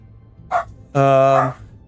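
Puppies give a short yip and then a longer, higher whining bark, two brief close sounds.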